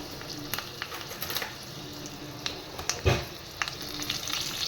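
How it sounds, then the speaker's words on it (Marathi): Soft sizzle and crackle of curry leaves frying in hot tempering oil, with a few sharper pops and scraping taps over a quiet hiss. "कढीपत्ता, आणि मस्त अशी फोडणी आपण तयार करून घेतोय"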